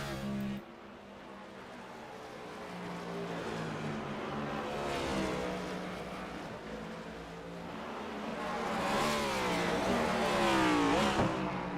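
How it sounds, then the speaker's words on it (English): Onboard Next Gen race car engine note at Sonoma, revs climbing and falling through gear changes, loud and sustained with a rising whine near the end. "On board with Richard, you can hear he's not saving"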